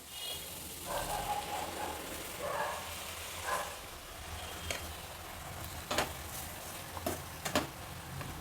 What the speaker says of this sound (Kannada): ಈಗ ರುಬ್ಕೊಂಡಿರೋ ಮಸಾಲೆನ ಅದರಲ್ಲಿ ಹಾಕ್ತಾಯಿದ್ದೀನಿ